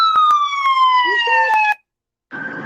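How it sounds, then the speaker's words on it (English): An ambulance siren sweeps downward as it passes close by, loud and wailing, then cuts off abruptly before a brief rush of background noise returns; voices are faint. "the ambulance passed making a certain noise"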